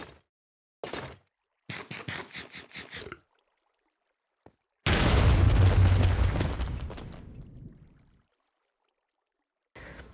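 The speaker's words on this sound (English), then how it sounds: "Because of the way the explosions happen, it's just a cacophony of damage." Explosions go off in Minecraft: a few short popping bursts, then one big booming blast that rumbles and fades over several seconds, with silence between.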